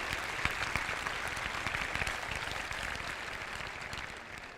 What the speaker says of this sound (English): If we could have a round of applause for all the people who helped plan.